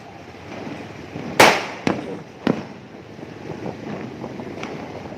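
Several sharp Diwali firecracker bangs go off at a distance, one loud burst followed by two smaller pops, over a steady background of wind and outdoor rumble.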